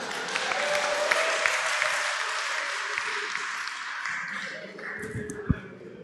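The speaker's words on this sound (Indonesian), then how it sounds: "tepuk tangan sekali lagi dong Pak, buat Pak Ian Jonggol" An audience applauds a stand-up comedian at a comedy competition, a dense wash of clapping that continues steadily and then thins toward the end.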